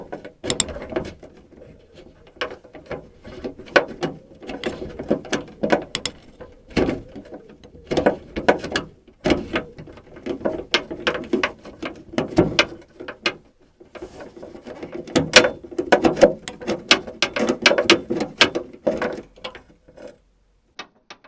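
Screws are turned out of an MG TF door handle in short bursts of clicking and ratcheting, close and intermittent with quiet pauses between.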